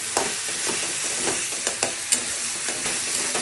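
Paneer masala stirred and fried in a pan, a steady bright sizzle with repeated scraping strokes of the spoon, close and continuous, with no talk.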